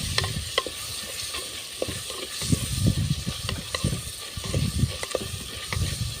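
Mango fish curry stirred in a hot pan, a steady loud sizzle with scraping strokes of the spoon recurring every second or so, close up and with no talk.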